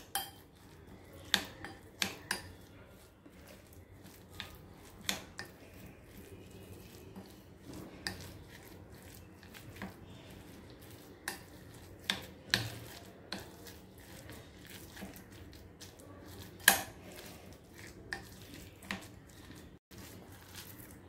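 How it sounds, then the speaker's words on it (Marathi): Moong dal bhaji batter is stirred with spices in a bowl, producing quiet, irregular spoon clinks and soft wet squelches, with scattered taps across a long stretch and no one speaking. "आता हे सर्व मिक्स करून घ्यायचं आहे"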